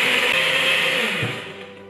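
A blender whirring through a semla, a loud steady motor whine with a couple of low knocks, tapering down toward the end, close and with no talk.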